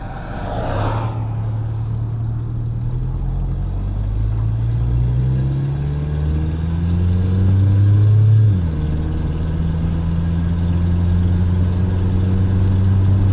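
Ford Ranger pickup truck engine running steadily in cold weather, a loud, close, low idle that rises and falls through a few gentle revs, with no voices over it.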